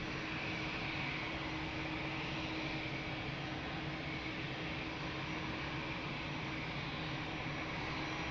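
An airplane on approach to land on runway 02 at Lisbon Airport, heard as a steady, broad engine roar that holds constant throughout at moderate distance.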